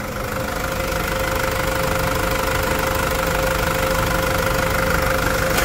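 A Toyota Hilux 3.0 pickup's engine idles while warming up, a steady close rumble with an even mechanical knock and constant hum, unchanging and with no voices.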